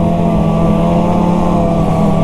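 A Ski-Doo snowmobile engine, running again on its first ride after a breakdown, holds a steady, loud, close droning hum with firm low harmonics and no break for the whole stretch.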